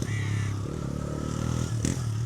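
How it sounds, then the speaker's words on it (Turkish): A motorcycle engine passing close by on a street, its loud droning note shifting in pitch as it goes past. "Hoşçakal motorcu."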